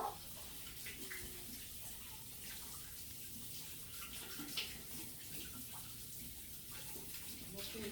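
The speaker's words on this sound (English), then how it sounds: "Okay, let me wash my hands real quick." Running tap water pours steadily while someone washes their hands, a constant splashing hiss with no break throughout.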